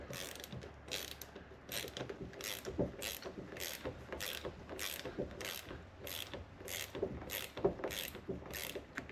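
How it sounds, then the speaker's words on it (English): A ratchet clicks in a quick, regular series of about a dozen faint strokes while tightening a roof rack nut on a first-generation Toyota Tacoma. "you're just going to tighten this nut"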